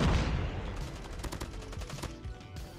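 Sustained LMG fire in Call of Duty Mobile, a rapid unbroken stream of loud gunshots filling the whole stretch, with a brief dip near the end before the fire resumes.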